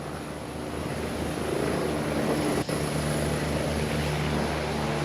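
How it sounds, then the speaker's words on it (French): A GIGN helicopter takes off during a demonstration at the Château de Vincennes. Its steady rotor and engine roar holds throughout, swelling slightly, with a brief dropout near the middle. "Et l'hélicoptère, lui, repart instantanément avec toujours le tireur d'élite"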